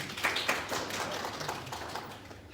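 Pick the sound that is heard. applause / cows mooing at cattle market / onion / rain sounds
applause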